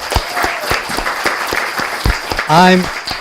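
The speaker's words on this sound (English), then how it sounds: "How about a big round of applause for that?" Audience at a city council meeting applauding: a loose scatter of individual claps, close and fairly loud, with a voice speaking over the clapping near the end.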